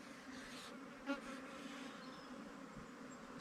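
Honey bees hum steadily around a beehive during artificial swarming, a dense continuous buzz at moderate volume throughout with no talking.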